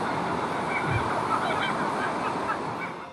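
A raven mimicking a kookaburra call outdoors in Australia, a harsh, honking, repeated cackle over steady broadband background noise like wind or surf, fairly loud and continuous for about three seconds.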